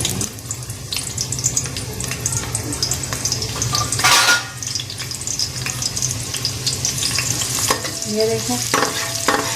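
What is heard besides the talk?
onion frying in ghee for rice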